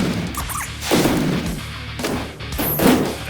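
Genos fires cannon blasts in a One Punch Man game, three heavy booming explosions with crashing tails spaced about a second apart, loud and close without speech.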